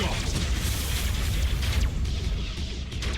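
Spaceship weapons fire and explosions in the Battlefleet Gothic Armada space combat game form a continuous loud, dense rumble of booms with no clear breaks throughout.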